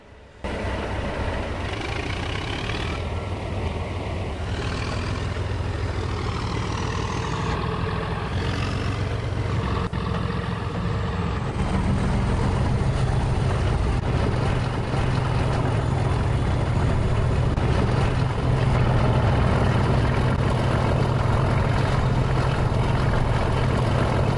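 A Class 37 diesel locomotive in Trainz Simulator 3 throttles up, a steady low engine rumble that grows louder and fuller about halfway through and holds at a constant drone, with no talking.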